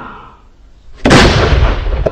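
A quiet lull is broken by a single loud, booming blast from a traditional bamboo cannon, with a deep low rumble that lingers and decays, followed by a small pop.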